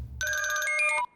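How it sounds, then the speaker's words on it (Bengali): A telephone rings once in a short burst during a Bangla-dubbed action film scene, a bright electronic trill lasting about a second. "এসিপি রমেশকে ফোন করো।"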